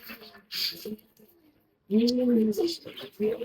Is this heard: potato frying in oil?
no